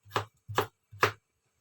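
Three crisp knife chops through potatoes being cut into small pieces for frying, each a sharp thud on the board at a quick, even rhythm, close up with no talking.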